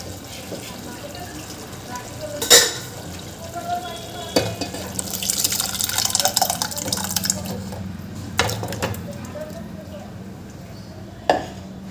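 Mashed dal is added to spinach in a pan and stirred in, with a few sharp utensil clanks against the pan and a wet sloshing, sizzling stretch in the middle, close by.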